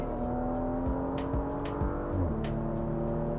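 Porsche Macan GTS with PDK gearbox, a sustained engine drone with rising pitch shifts and a gear change partway, accompanied by repeated sharp ticks, no talk.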